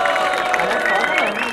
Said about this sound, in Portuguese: queria até pedir uma salva de palmas pra eles e todos os MCs que passaram aqui